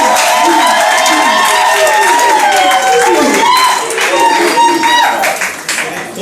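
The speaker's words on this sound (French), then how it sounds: "Est-ce que vous pouvez applaudir chaleureusement?" Warm applause and cheering from guests at a civil wedding ceremony, a dense, loud wash of clapping with overlapping voices and shouts throughout.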